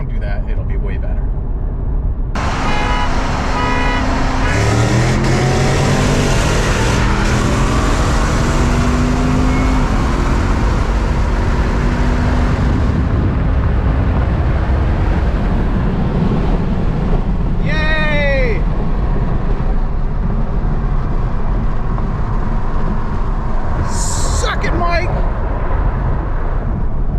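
A high-mileage Corvette with an automatic transmission accelerates hard in drive, its engine note loud and close with rising gear sweeps under heavy wind noise, while a voice talks over it.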